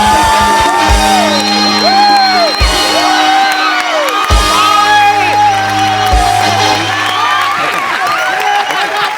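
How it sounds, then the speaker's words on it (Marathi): A studio audience at a Marathi comedy show's Employee of the Year award segment erupts in loud shouts, whoops and cheering with bursts of applause, a continuous dense crowd roar filling the clip. "एकदा जोरदार टाळ्या"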